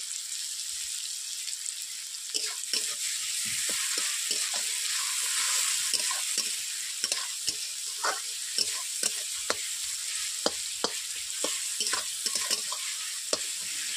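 Onions frying in a pan and being stirred, with a constant bright sizzle and a run of scraping, clicking spatula strokes that grow busier through the middle and continue to the end, close up and without talk.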